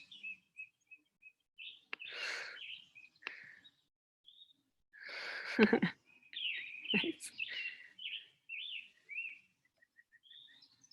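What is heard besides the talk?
birds chirping outdoors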